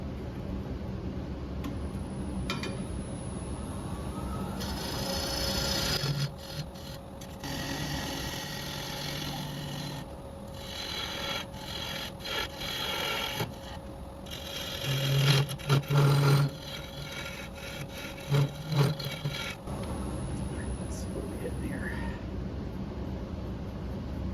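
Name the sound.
woodturning tool taking light shearing cuts on walnut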